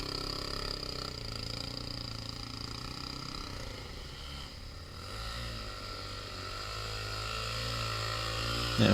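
A Suzuki DRZ400 dirt bike labours up a sand hill on a Cape York trip, its single-cylinder engine droning steadily at high revs, rising and dipping slightly as it climbs, loud and continuous with no voices.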